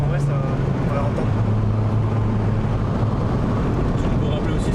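Exhaust of a home-tuned, boosted Peugeot 206 RC with a hot stainless steel system, a steady loud low rumble with a droning tone that drops in pitch partway through, heard close and continuous.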